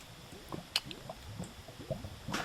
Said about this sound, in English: I found the source of the lava sound.